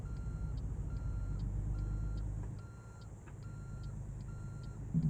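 In American Truck Simulator, a truck backs a trailer. A steady series of backup-alarm beeps repeats evenly over a low, idling engine rumble that dips briefly midway.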